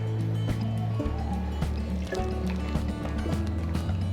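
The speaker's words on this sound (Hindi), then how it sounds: "अब हम इसमें डालेंगे थोड़ा सा पानी।" Water being poured over cut raw bananas in a kitchen, a soft close trickle and splash with small knocks and clatter of utensils around it.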